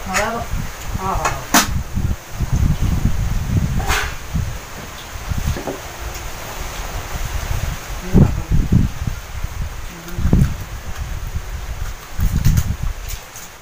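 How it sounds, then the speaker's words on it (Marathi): Strong wind gusts outdoors in a yard, with heavy rumbling buffets and rustling that rise and fall in irregular bursts at close range. "वारा खूप सुटलाय वारा एकदम सुटलाय जोरदार"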